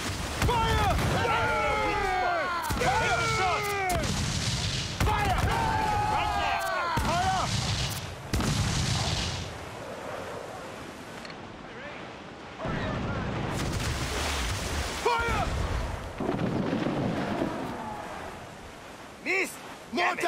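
Ship cannon fire during a naval battle in the game Assassin's Creed IV: Freedom Cry: repeated booming blasts mixed with shouted crew voices, then quieter stretches of rumble and a few later bursts.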